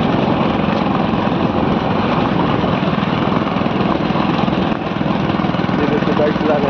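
A motorbike ridden through a village gives a loud, steady engine drone mixed with wind rush that barely lets up, with voices faintly underneath.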